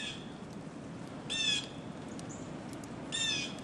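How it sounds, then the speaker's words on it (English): Outdoors during a snow storm, birds give two short, clear calls separated by a pause, faint against a steady windy background. "The birds are still out though."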